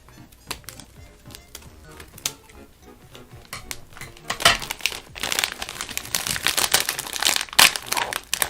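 Plastic bags of freeze-dried candy crinkle and rustle as they are handled and torn open, sharp irregular crackles growing busier and louder toward the end, with no talking.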